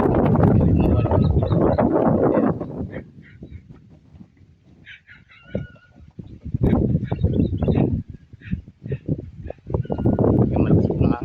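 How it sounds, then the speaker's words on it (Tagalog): Strong wind gusts roughly into the microphone outdoors in an irrigated farm field, with loud buffeting bursts at the start and end. Honking fowl and brief voices fill the calmer middle stretch. "Yung malakas po ang hangin."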